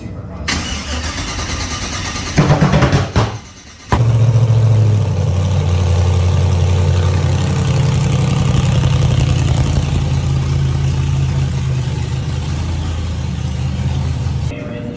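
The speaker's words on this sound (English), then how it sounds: "Just the turn of the key." An LS-engined rat rod cranks briefly, catches and roars to life, then settles into a steady, loud idle that runs to the end.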